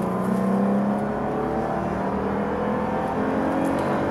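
A 2006 Lexus GS 300 with a 3.0-litre 249 hp engine, 260,000 km on the clock, running on LPG: a steady, smooth close idle hum with faint tonal whine, heard alone.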